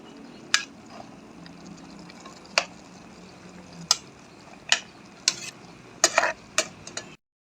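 A spoon stirs a Filipino dish in a pan that holds sweet potato leaves, making a string of sharp scrapes and clacks at an uneven pace over a faint background hum, and no one talks.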